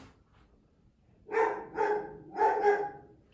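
A female pet dog barks four times in quick, uneven succession at moderate distance, with no talking.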